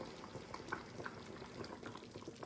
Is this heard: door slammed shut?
no